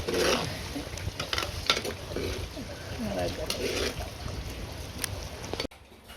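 Curry leaves frying and being stirred in a clay pot while cooking seafood curry, giving a steady sizzle with scraping stir strokes throughout, close and fairly loud, before an abrupt drop near the end.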